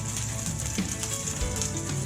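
A stuffed chicken sizzles and crackles on a hot barbecue grill in a steady, faint frying hiss with soft pops and no voices.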